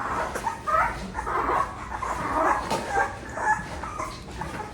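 Two female puppies whimper, yip and bark in short overlapping bursts close by, a restless mix of whines and small barks.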